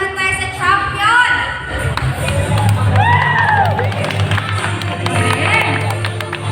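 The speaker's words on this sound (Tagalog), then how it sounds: "Pumalakpak na sila eh." Crowd at a basketball and volleyball awarding ceremony clapping and cheering, a continuous noisy mix of shouts, claps and whoops with voices calling out over it, loud and close throughout.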